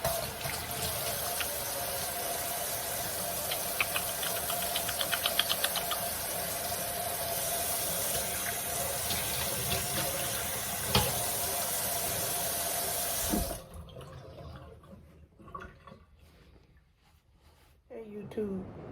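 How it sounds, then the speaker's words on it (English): Tap water runs steadily into a sink while hands are washed, a continuous hiss with faint clinks, stopping abruptly partway through as a person talks. "First thing we're going to do is we're going to wash our hands."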